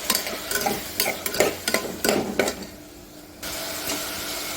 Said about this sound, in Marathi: आता यानंतर टोमॅटो टाकूयात यामध्ये आणि ते सुद्धा छान परतून घेऊयात